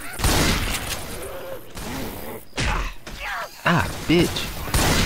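Shotgun blasts in Left 4 Dead 2 during the Dark Carnival campaign, several separate loud booms with pauses between them, mixed with game noise and a player swearing.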